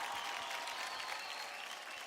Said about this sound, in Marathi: जोरदार टाळ्या होऊन जाऊन देत प्रियांशू साठी